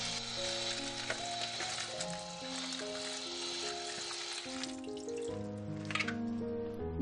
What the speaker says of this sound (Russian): и промываем цукини холодной водой.